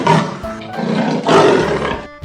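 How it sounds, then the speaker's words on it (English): A leopard gives two loud, rough roars in quick succession, close and harsh, with no talk over them. "Leopard."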